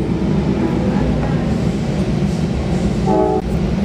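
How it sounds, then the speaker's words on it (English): A train rumbles steadily along a railroad through a suburban area near a station, heard loud and continuous from a nearby bus, with a brief horn-like tone near the end. "there's a train"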